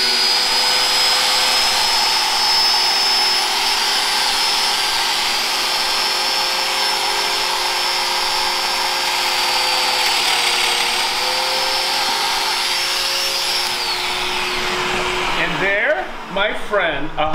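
A Festool Domino joiner whines at a steady high pitch for about fifteen seconds close by, then shuts off with a brief clatter at the end.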